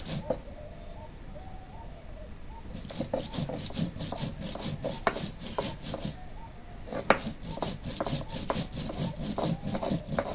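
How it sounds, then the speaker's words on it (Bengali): Ginger and cumin are ground into a paste by hand, with a steady rasping, rubbing scrape of repeated strokes and a few sharper knocks. Faint birdsong sounds in the background. "এখন আদা জিরে বেটে নেব"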